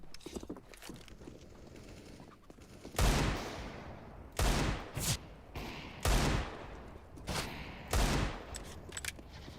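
Rapid bursts of gunfire in the video game CS:GO, Desert Eagle in play, with loud repeated volleys spaced every second or so, plus faint mechanical clicks and distant game sounds between shots.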